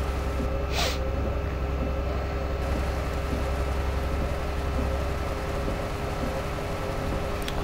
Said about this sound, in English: This is the first time we've had rain in a while.